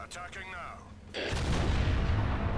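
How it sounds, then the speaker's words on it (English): Quake Cannon firing in the strategy game Dawn of War, Imperial Guard faction: a loud deep boom that hits after a moment of quieter game sound and then rumbles on heavily to the end. "I normally get for the Quake Cannon because yeah, it's that satisfying to fire."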